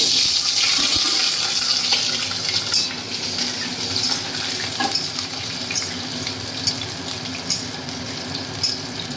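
Potatoes frying in hot oil, a loud, dense, continuous sizzle close by, with faint stirring and crackle and no voices.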